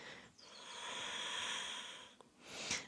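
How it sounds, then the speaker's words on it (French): Deep, slow breathing during a yoga session for back pain, with a long close airy exhale, a short pause, then another breath beginning, soft and intimate. "On se laisse guider par notre respiration."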